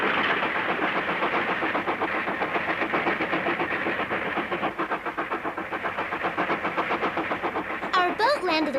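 A steady train ride near Sydney, Australia, with a continuous rhythmic rattling rumble of rails running loudly through the whole stretch, blended with other busy sound.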